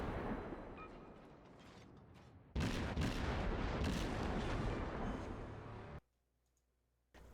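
Naval guns on the American Tier V destroyer Nicholas fire in a combat video game, a dense loud burst of repeated booming shots and mechanical clatter that runs for several seconds, then cuts off abruptly to near silence.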